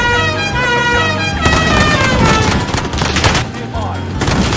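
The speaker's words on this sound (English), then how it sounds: "I'm getting shot at from behind, dude." Gunfire in the video game Warzone, dense rapid automatic bursts and crackling shots close and loud throughout, with a horn-like tone and game effects mixed in and a player talking over it.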